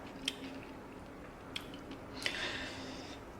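Soft close chewing of a bite of cherry honey glazed baked ham, quiet moist mastication with a few brief crisp clicks over faint room hiss, no talking.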